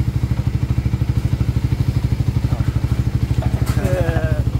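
Suzuki Raider 150 FI motorcycle engine idling with a fast, even putter, loud and close, with a brief faint voice and a few light clicks near the end.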